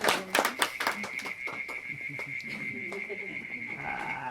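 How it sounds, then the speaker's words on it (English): Applause at an evening event, a few sharp claps at the start and then a steady sustained ovation from a gathered audience, with a constant high tone running underneath. "I think we're just doing another round of applause"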